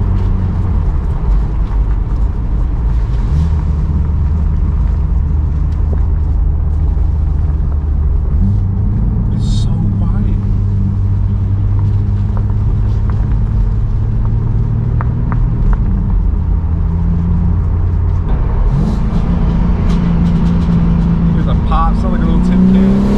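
BMW M4 G82 with a straight-piped titanium exhaust and downpipe, valves closed, heard from inside with the windows down: a steady, subdued low engine drone that shifts pitch a few times as it cruises, with no talk over it.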